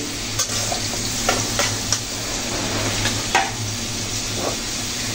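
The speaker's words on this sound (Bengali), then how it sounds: "মূলত এই কারণে আলুগুলো আগে ভেজে নিচ্ছি।" Potatoes frying in a pan give a loud, steady sizzle, with occasional scrapes and knocks of a spatula stirring them, close up and without talk.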